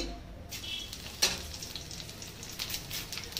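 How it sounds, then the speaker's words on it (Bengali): Whole five-spice seeds hit hot oil in a wok, giving a crackling sizzle with a sharp pop near the start and intermittent spits and crackles that continue quietly afterward. "কড়াটা গরম হয়ে গেছে, দিয়ে দেবো 5 ফোড়ন"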